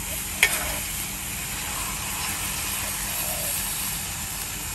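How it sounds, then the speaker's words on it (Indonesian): Pounded garlic, shallots and ginger sizzle in hot oil in a pan, a steady soft frying hiss with a brief clink of a stirring utensil near the start. "Sahabat tumis, masak bawang ni sehingga keperangan dan naik bau."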